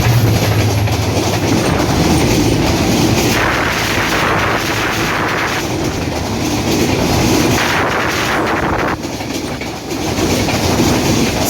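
Express passenger train 769 Dhumketu Express, hauled by an American 66-series locomotive bound for Rajshahi, rushes into Azimnagar station on line 2, a loud continuous rumble and clatter of wheels and wagons throughout, briefly dipping near the end.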